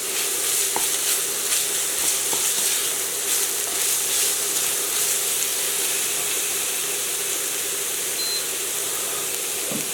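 Onions sautéing gently in a pan until translucent for Portuguese-style gizzards, a steady close sizzle and hiss with faint stirring, no voices.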